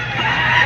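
A one-year-old White Kelso rooster clucks at a poultry market in Padre Garcia, Batangas, a brief, steady burst of low fowl sounds amid busy market noise.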